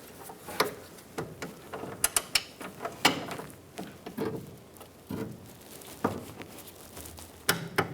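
A torque wrench tightens bumper bolts to 37 foot-pounds on a 1999-2006 Chevrolet Silverado 1500, giving irregular clicking ratchet sounds and metallic taps close by, fairly quiet, with no voices.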